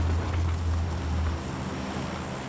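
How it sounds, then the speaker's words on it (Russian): A car engine idling steadily and refusing to shut off, a low constant drone close by that drops slightly in level about halfway through, no voices. "Блин, что у тебя с тачкой? Не заглушается"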